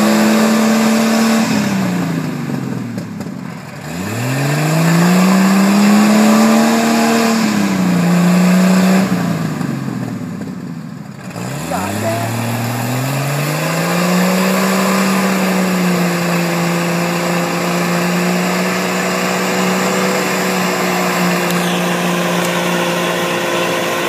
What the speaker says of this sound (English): I'm turning the back wheels back and forth.